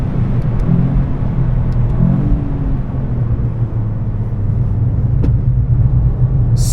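A 2025 Toyota GR Yaris with automatic transmission accelerates on the Nürburgring Nordschleife, its engine a loud, steady, throaty drone heard from inside the car with no talk.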